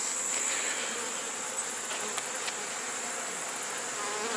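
Honey bees in a hive colony weakened by viruses hum in a steady, dense, close drone, with no talk over it.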